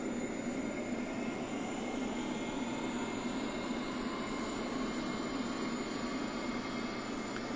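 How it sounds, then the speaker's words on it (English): The left engine of an A-10C Warthog spooling up in the DCS flight simulator, a steady low turbine drone and whine with faint rising tones that holds constant and fairly quiet throughout, with no voices. "Now we'll go ahead and start the left engine"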